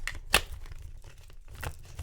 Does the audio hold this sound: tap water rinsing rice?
no